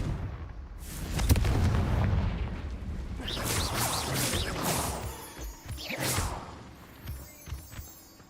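A Confringo blasting spell bursts in the Hogwarts Legacy video game, a loud booming explosion with a crashing rush of debris, followed by whooshing magical effects that fade toward the end.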